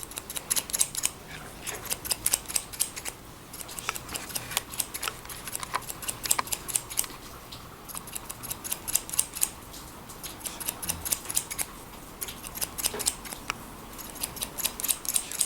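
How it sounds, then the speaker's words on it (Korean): Scissors snip hair during a mohawk haircut, in rapid close, crisp cutting clicks that come in dense bursts with brief pauses throughout. "가위 동작 잘 보십시오."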